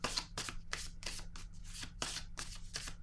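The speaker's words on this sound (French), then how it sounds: "je vais déposer une autre carte" Playing cards are laid down and handled in a quiet room, giving about eight crisp, papery slaps and swishes at a brisk, steady rhythm over a faint low hum, close and fairly soft.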